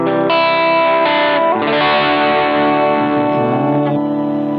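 Distorted electric guitar chords from a Mooer GE100 multi-effects unit ring out loud and sustained, several strums in a row with a gritty, crunchy tone and no voices.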